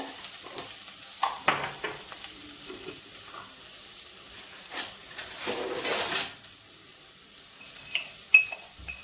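Sliced onions and curry leaves sizzle steadily in a hot pan, with a spoon stirring and occasional clinks against the metal, a swell of frying in the middle and no talking.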